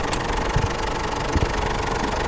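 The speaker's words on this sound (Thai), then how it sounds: "นี่ติดเครื่องแล้วนะครับ เครื่องเงียบเลย" A 2010 Ford Ranger Hi-Rider 2.5 pickup's diesel engine idles steadily with a low, even rumble and a faint rhythmic knock, continuous and close, with no talking.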